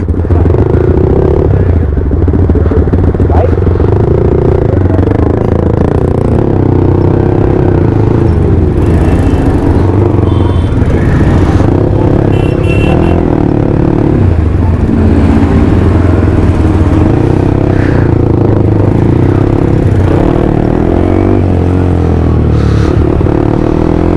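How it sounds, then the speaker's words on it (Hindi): Motorcycles fitted with Akrapovic aftermarket exhausts growl loudly and continuously close by, engine drone rising and falling as a group rides out together, with occasional clatter and faint voices mixed in. "इनकी बाइक में लगा हुआ है देखो एक्रोपोविक, और मेरी बाइक में ऐसी प्रोजेक्ट, एक जैसी ग्रोलिंग लग रही है मुझे तो"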